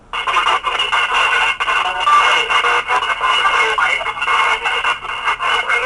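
Continuous crackly radio static from a spirit box app randomly sweeping radio stations, with bursts of fragmented, shifting audio snippets, steady and fairly loud, no clear talking.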